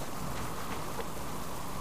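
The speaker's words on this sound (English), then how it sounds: "Especially with all this rain and what have you." Cold rain falls steadily outdoors near freezing, a quiet continuous wash of patter with no voices.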